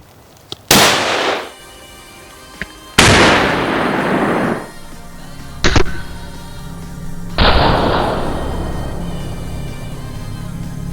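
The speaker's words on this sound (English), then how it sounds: "that doesn't mean we're not gonna shoot it with a 308" A .308 rifle fires at thin titanium plate outdoors, with loud, sharp reports that echo and decay over a second or two, spaced several seconds apart, plus a shorter crack in between.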